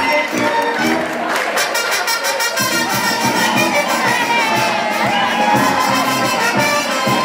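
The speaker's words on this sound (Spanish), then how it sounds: "darle un fuerte aplauso." A crowd at a solemn civic ceremony applauds and cheers, with rapid clapping, shouts and whistling blending into a loud, continuous wash of voices and hands.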